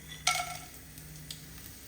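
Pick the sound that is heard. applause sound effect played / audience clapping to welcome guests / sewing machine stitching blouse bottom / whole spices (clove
whole spices (clove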